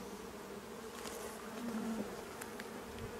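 Honeybees buzzing steadily at a hive during an inspection of nucleus colonies, a close, continuous drone with no talk.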